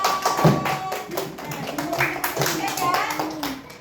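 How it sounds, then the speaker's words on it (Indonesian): A group at a school gathering gives a short burst of rapid clapping, a quick patter of hand claps with a voice speaking briefly over it. "tepuk tangan untuk semuanya"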